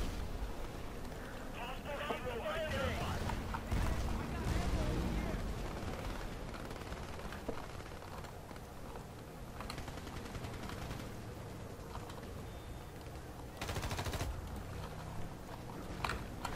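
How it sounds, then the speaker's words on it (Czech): Gunfire in the online shooter Battlefield Play4Free: rapid, distant bursts of shots crackle in a busy battle soundscape, rising again near the end, with someone talking over it at times. "Slyšel jsem střelbu."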